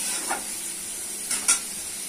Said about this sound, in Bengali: দিয়ে দিচ্ছি মাংস। মশলা ভালো করে কষে দিতে হবে।